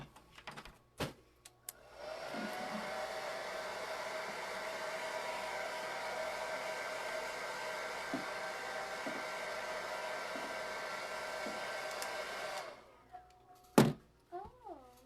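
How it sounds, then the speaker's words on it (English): A hair dryer blows steadily on an old frame, a loud even whirring drone of about ten seconds with a few soft knocks, framed by brief handling clunks before and after. "I'm going to hit this with a dryer real quick."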